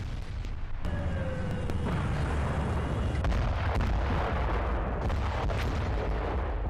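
Explosions from an attack on a petrochemical plant in Ahvaz, Iran: a loud, continuous roar of blasts with heavy rumble and a few sharper booms rising above it, with no talk.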